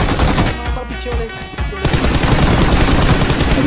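Rapid bursts of automatic gunfire in the mobile battle royale game PUBG (BGMI), with loud, dense volleys and a brief lull before firing resumes and continues to the end.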